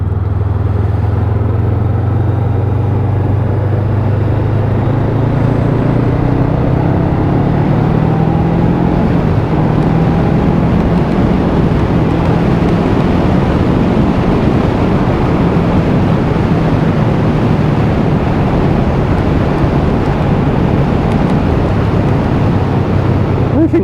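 A Voge 500AC motorcycle being ridden on an open road, its steady engine drone buried under heavy, constant wind rush for the whole stretch, with no speech.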